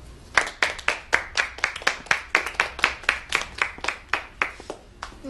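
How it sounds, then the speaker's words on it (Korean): A small group claps together in a steady, even rhythm of about twenty sharp claps in a farewell send-off for a part-time worker at a workplace, loud and close with no voices over it. "다 같이 박수!"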